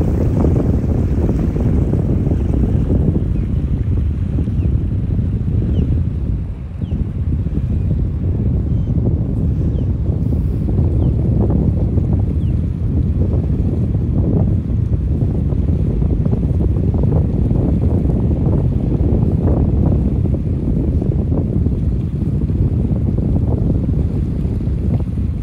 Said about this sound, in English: Bit breezy out here, sorry.